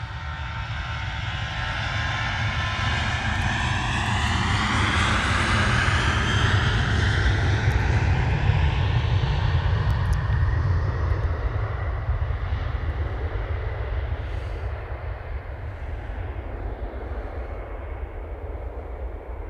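An airliner taking off at Manchester Airport roars in a deep, sustained rumble that swells toward the middle and then slowly fades as it climbs away into the distance, with no talk.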